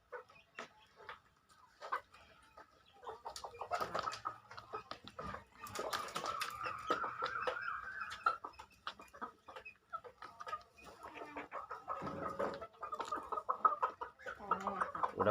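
Free-ranging country chickens and roosters in Chavara, Kollam, cluck and chatter fairly faintly, with overlapping calls rising and falling throughout and a voice talking quietly at times.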